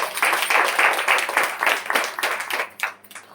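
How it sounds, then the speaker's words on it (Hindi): A church congregation claps together in praise, loud, close and rhythmic, with the beats coming in even pulses and slightly loosening toward the end. "जोरदार ताली हो जाए परमेश्वर के नाम को महिमा के लिए"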